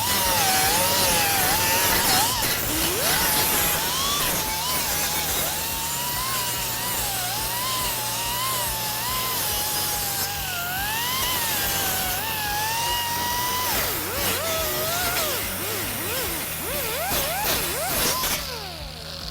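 A 50 grit sanding disc works a steel panel with a continuous, loud abrasive grinding whir, its pitch wavering as pressure and speed shift, running steadily for the whole stretch.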